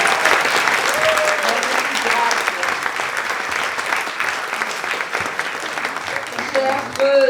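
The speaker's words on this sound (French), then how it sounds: "vous aurez le loisir de pouvoir les applaudir" A theater audience applauds warmly as cast members of a Dracula and Sherlock Holmes stage show are introduced, the clapping dense and continuous, with scattered voices and a few shouts rising near the end.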